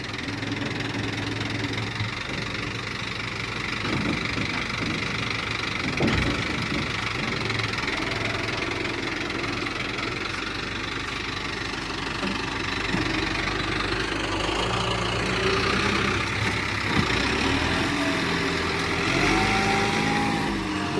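A tractor's diesel engine runs steadily at idle, out in rain-soaked fields, with a rough, knocking rumble and a vibrating drone that holds loud and close throughout, shifting slightly in tone toward the end.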